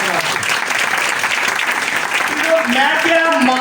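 Loud, sustained applause from an audience honouring mothers at a Mother's Day church gathering, steady clapping throughout with voices and murmurs mixed in near the end.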